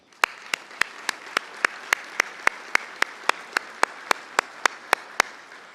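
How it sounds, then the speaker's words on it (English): Applause at a San Diego military breakfast event: a single pair of hands claps crisply and evenly about three times a second, sharp and close, with little crowd noise behind it. "So I'd ask if we give SDMAC a round of applause"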